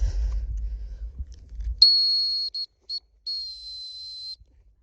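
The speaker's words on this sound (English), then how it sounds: "whistle come, whistle come" A shrill, high-pitched dog training whistle sounds in a long blast followed by a few short pips and another sustained tone, after low rumbling noise.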